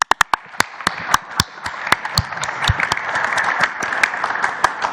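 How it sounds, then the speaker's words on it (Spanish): A crowd breaks into applause at a Mexican presidential morning press conference, starting with a few sharp claps and swelling into steady, dense clapping that continues throughout. "Un aplauso."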